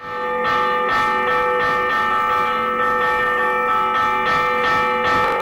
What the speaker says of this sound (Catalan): I un any per la festa major va fer el repic de campanes.